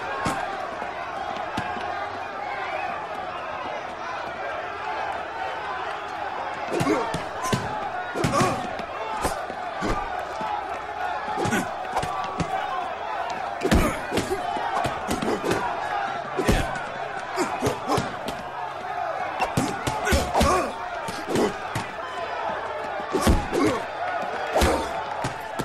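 Boxing fight with a cheering crowd in the video game L.A. Noire, sharp punch slaps and thuds landing irregularly over a constant murmuring crowd, with voices shouting throughout.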